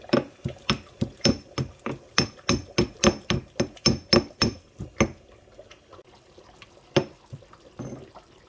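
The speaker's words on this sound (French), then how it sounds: "je vais aussi écraser akbi que j'ai laissé tremper dans de l'eau froide" Soaked akpi seeds are pounded with about fifteen steady, evenly spaced thuds, each carrying a bright ringing click. They come close and loud, then stop, and two or three looser knocks follow.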